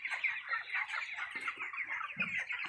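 Young chickens about twenty-five days old on a poultry farm cluck and chirp continuously as a busy flock, with dense overlapping calls close by.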